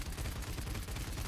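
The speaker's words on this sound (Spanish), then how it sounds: "¿Cuántos disparos le has disparado a ese tío?" Rapid continuous gunfire in the shooter video game Paladins, a dense rattling burst that stays steady and moderately loud throughout.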